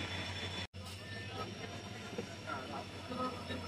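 A train rumbling as it departs Malwara station on the Bhildi–Jodhpur line, a steady loud onboard roar with a brief dropout early on and faint clattering throughout.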